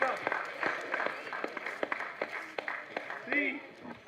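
Audience clapping at a youth entrepreneurship event at Mata Sundri College, with scattered, fairly sparse claps mixed with voices and murmuring in the room.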